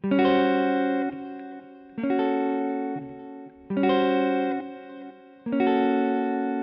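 Electric guitar chords with effects ring out in four sustained strums, alternating between two chord shapes with short gaps between them.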